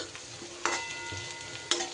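A spoon scrapes and stirs Kashmiri chilli powder through potatoes in a frying pan, with a soft sizzle underneath and two sharper metallic clinks against the pan.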